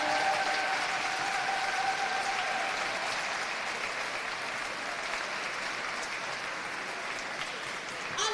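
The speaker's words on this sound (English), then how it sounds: "So massive round of applause to the umpires over there." Sustained applause from a netball crowd for the umpires at a Wales Netball event, steady and fairly loud across the whole stretch, with a faint whistle-like tone early on.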